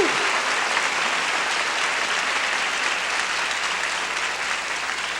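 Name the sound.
congregation clapping hands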